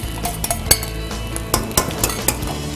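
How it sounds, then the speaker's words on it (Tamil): Boiled rice tipped into a pan and stirred, with close metallic clinks and scrapes of a spoon against the pan at an irregular rhythm over a faint background sizzle. "இப்போ பாயில் பண்ண ரைஸ் அதில் போட்டுரும்."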